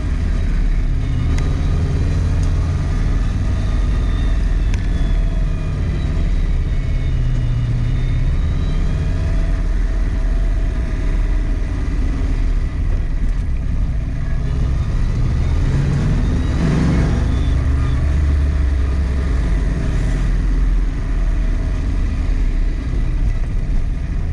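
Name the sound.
rattling 347 stroker engine in a 1966 Mustang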